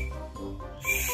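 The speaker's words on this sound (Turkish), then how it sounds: "Düdüğünü de öttür." A toy whistle gives faint, short tonal toots, quiet and close, with a slightly hooting, breathy tone.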